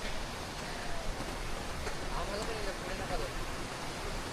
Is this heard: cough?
no